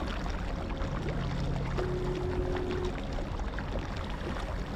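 In the first-person shooter Marathon Infinity, water flows and churns without pause, a constant broadband rush with faint tones drifting through, and no one speaking.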